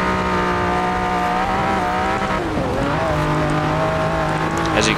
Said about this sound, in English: Oh, drifting a little bit there.